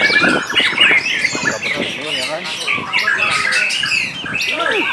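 White-rumped magpie robins (murai) of the aggressive fighter type give harsh squawks and sharp chirps in quick bursts, close by and loud, while people talk over them.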